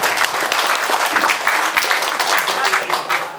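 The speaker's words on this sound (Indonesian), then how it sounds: "Tepuk tangan lagi." A crowd at a welcoming ceremony for the governor in Mamasa Regency bursts into loud, steady clapping, with some voices mixed into the applause.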